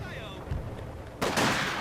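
Gunfire in the World War II strategy game Company of Heroes 2, a louder burst of shots breaking in after a quieter stretch of battlefield ambience.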